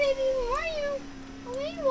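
A person's voice imitating a cat's meow, with two drawn-out rising and falling meows, mixed with spoken words while racing in the Roblox game Jailbreak.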